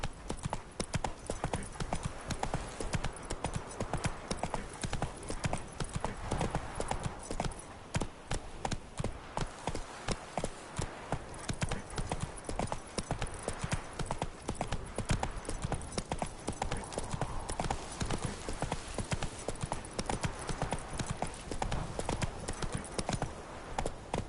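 Roach, the horse from The Witcher game, gallops in a steady, driving rhythm of hoofbeats that fills the whole stretch, loud and close, with a brief whinny mixed in.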